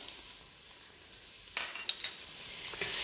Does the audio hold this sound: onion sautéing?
yes